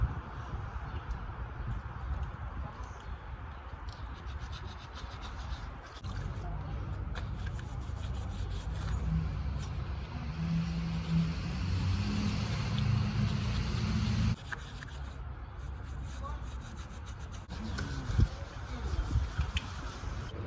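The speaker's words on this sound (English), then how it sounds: "I'm just gonna start scrubbing, get all the tight areas I can" A motor being scrubbed with a Scotch-Brite pad and warm water, a steady close rubbing and scraping that runs on for most of the stretch with brief pauses.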